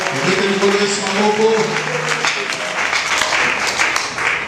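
A church congregation at an evangelical gathering applauds, a dense steady clapping wash with singing and voices mixed in throughout.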